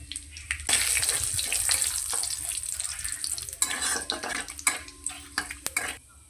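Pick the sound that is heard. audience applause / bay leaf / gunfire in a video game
bay leaf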